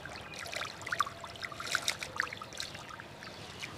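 Water trickles and splashes as pointed gourd and prawns are washed for a village dish, a close, uneven run of small pours and drips lasting a few seconds, with no voices.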